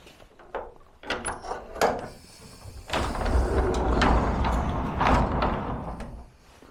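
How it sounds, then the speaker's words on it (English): A garage door rolls open with rattling, clanking mechanism noise, starting with scattered knocks and building to a steady rumbling grind. "let's open the garage door and fire it up"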